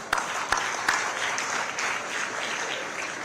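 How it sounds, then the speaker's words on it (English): Audience applause at an Africa Day celebration, a steady sustained wash of many hands clapping with a few sharper claps near the start, moderately loud and without speech. "May I invite you to applause?"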